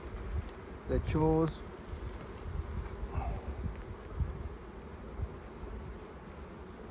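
Honey bees buzz steadily from an open hive in a botanical garden, a dense close hum under brief outdoor talk.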